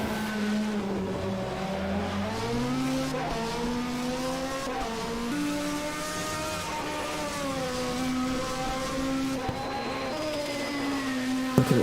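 Race car on a European Hill Climb Championship course at Buzetski Dani, engine note rising and falling through gear changes as it climbs, loud and sustained with no talk.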